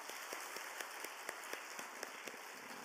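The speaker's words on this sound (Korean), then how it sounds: "격려의 박수 한번 하도록 하겠습니다." Congregation applause of encouragement at a Wednesday church service, heard as a soft, distant, steady patter of many hands clapping in a large room.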